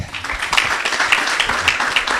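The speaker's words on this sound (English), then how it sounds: "I think this is just a round of applause." Steady applause from a crowd, dense clapping that holds at an even level throughout without any voices over it.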